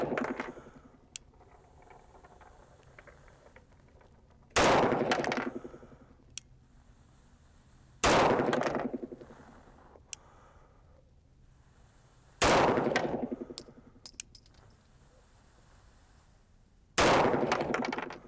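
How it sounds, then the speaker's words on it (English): Five single shots from a 6-inch 9mm 1911 pistol firing 147 grain Winchester T-Series ammunition, each a loud sharp crack with a short echo, spaced about four seconds apart with quiet between. "6-inch 1911 shooting 147 grain T-Series Winchester over the chronograph."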